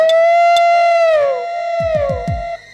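A dog's howl rings out loud and close, one long sustained wavering cry that bends downward, followed by a few short low thumps as it fades out.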